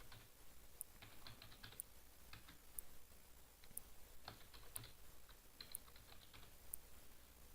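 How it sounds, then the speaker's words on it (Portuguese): A password is typed on a computer keyboard as a quiet run of irregular, close key clicks, with a faint regular ticking beneath and no voices. "Vou colocar a senha aqui."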